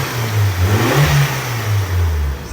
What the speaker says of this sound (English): We're gonna, you know, rev it up a little bit, make sure everything's copacetic.